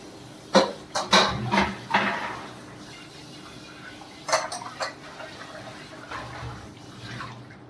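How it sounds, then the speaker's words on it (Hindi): Dishes, pots and pans being washed by hand in a home kitchen, with several sharp clinks and clatters of utensils and crockery spaced through the stretch over quiet running water, fairly close and moderately loud. "किसको बर्तन मांजना पसंद नहीं है मुझे जरूर बताना।"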